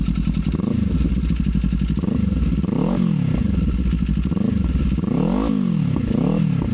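A Z 500 SE motorcycle fitted with a Leo Vince Corsa EVO exhaust is revved repeatedly while idling, each blip rising and falling in a regular rhythm of about five sharp, throaty surges, loud and close.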